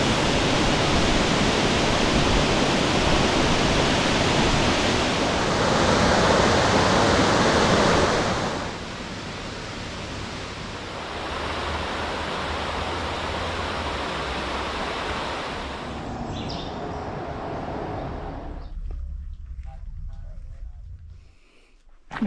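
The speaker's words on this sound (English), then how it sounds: "I had no clue that this is how tall this waterfall is." Mingo Falls, a tall waterfall in the Great Smoky Mountains, pours with a loud, continuous rushing roar that softens partway through and fades away near the end.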